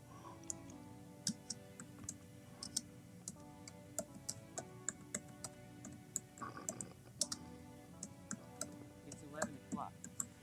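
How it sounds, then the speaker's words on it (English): Irregular, light clicks of typing on a computer keyboard, fairly close and quiet, with a faint steady hum behind the keystrokes. "You can hear me typing."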